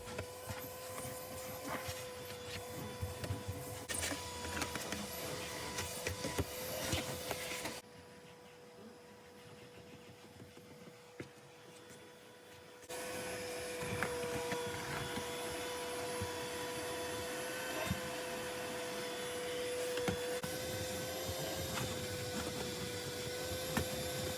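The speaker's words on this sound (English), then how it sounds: "we're gonna go through the third vacuum" A loud, steady car vacuum cleaner motor drones with a constant whine, briefly dropping quieter for several seconds before surging back to full power.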